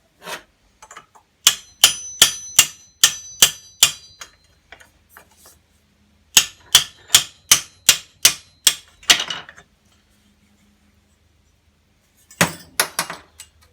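Brass olives popping as they are fitted onto copper tube: bursts of sharp, bright metallic clicks in quick rhythmic runs, separated by silent gaps, close and crisp with no talking.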